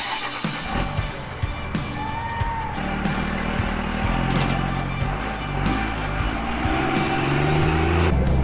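A Toyota Land Cruiser FJ40 engine running after 20 years sitting in a field, a rough rumbling idle with revving and clunks, close by.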